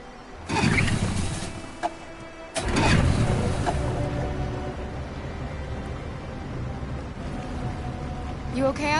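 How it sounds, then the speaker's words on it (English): A boat engine starts up in the video game Detroit, with a rough cranking burst, a brief stall, then a second catch that settles into a steady, low running drone. "We're far enough out. We can use the engine."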